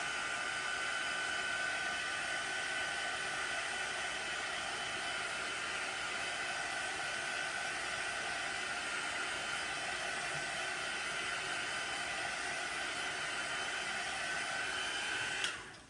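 A hair dryer blows continuously on chalk paste spread on glass, a loud, even airy roar that runs without a break before clicking off right at the end.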